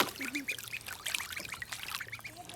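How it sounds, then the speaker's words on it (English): Ducks paddling and dipping their heads in water on a homestead, short nasal quacks mixed with close, bubbly splashing and trickling throughout. "cool part about these ducks, when they put their heads underwater and their body gets wet"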